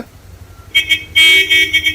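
Road traffic outside Kannur railway station, with buses heading into the city: a low engine rumble underneath, then loud, close vehicle horn toots sounding in bursts over the traffic noise.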